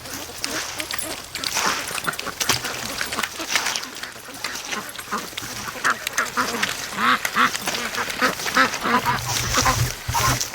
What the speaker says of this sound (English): Oh yeah, we got a lot more ducks down here.